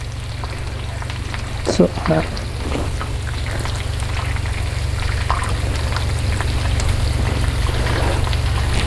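Shrimp sizzling in a cast iron pan on a Weber kettle grill: a loud, steady frying hiss close by, carrying on throughout, with a few clinks and taps of handling early on and a single brief spoken word.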